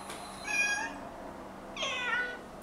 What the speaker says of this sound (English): Is that Toopy your cat?